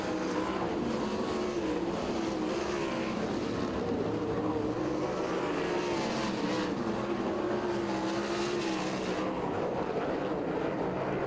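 410 sprint cars race through a heat at Lincoln Speedway, engines wailing continuously at high pitch as the pack circles the dirt oval, loud and close without a break.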